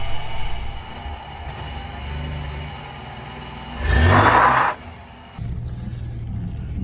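A 1997 Chevrolet Camaro engine runs steadily under the low rumble of the car. It swells into a brief, loud rev or surge partway through, then drops back to a steady drone.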